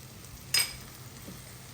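Oil spat onto a pan while cooking pumpkin chilla: a short, bright hiss flares up suddenly and fades within a fraction of a second, then a faint, quieter sizzle continues.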